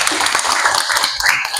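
Audience applause for group 3 at a classroom teaching-performance session, a short burst of dense, steady clapping from a nearby group of people.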